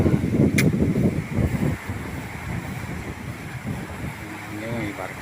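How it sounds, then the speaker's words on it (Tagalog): Strong wind blowing at the sea by blue water near Mindoro, roaring and buffeting loudly across the microphone with surf and water noise underneath, gusting hardest at first and then settling into a steady rush. "Malakas yung simoy ng hangin dito."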